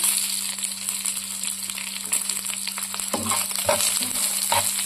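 Ginger, garlic and green and red chilies frying in a pan, with a strong continuous sizzle, a steady low hum beneath, and louder scraping stirs toward the end.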